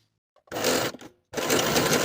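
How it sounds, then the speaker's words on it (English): A sewing machine runs in two steady bursts, zigzag-stitching elastic into a jersey waistband for loungewear, with a short pause between the runs. "pin the two short edges in place and zigzag to secure"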